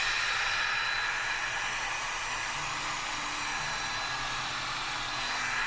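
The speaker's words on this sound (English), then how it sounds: "I don't want to mess it up too much with the heat gun, so I'm going to try and be gentle." A heat gun blows steadily over a resin charcuterie board, a loud, even broadband hiss that holds unbroken for the whole stretch with no talking.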